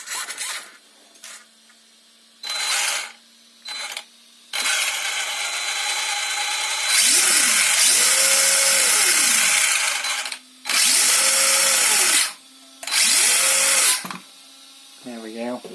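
Servo steering on a Savage XS RC car swinging to its endpoints, a loud whirring buzz in repeated short bursts, some with rising and falling pitch sweeps, separated by quieter pauses with a faint steady hum.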